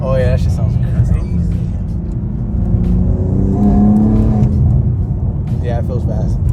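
A BMW G82 M4 engine rumbles loudly and climbs in pitch as it revs, heavy and close, with people talking over it.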